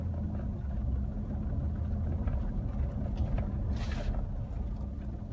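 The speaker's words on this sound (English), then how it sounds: "Had a truck just fly by," A truck speeding past on a dusty gravel road, a low rumbling engine and tyre roar that lingers steadily, with a brief hiss near the end.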